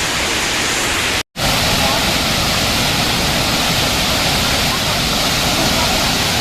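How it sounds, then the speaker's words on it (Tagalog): Hinulugan Taktak falls in Antipolo roars as a loud, constant rush of water, broken only by a brief dropout near the start. "Ayun yung falls."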